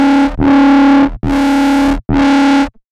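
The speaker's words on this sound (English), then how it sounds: "You can experiment with the different modes that you have here on Trash." A synth bass made in Serum, run through the Trash distortion's crunchy mode, plays four loud, gritty sustained notes separated by short silent gaps, each heavily saturated and buzzing.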